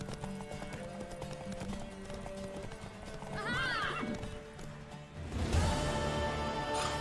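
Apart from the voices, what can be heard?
horse galloping and neighing, video game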